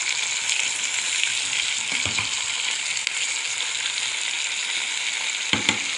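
Chopped tomatoes go into a pan of fried onions and sizzle steadily, a close, continuous frying hiss with a couple of soft stirring knocks.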